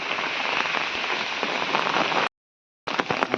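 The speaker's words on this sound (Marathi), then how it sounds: "मस्तच मस्तच पाऊस हा" Steady morning rain in rural Konkan falls loud and close on surfaces as a continuous hiss, breaking off for a moment of silence before resuming.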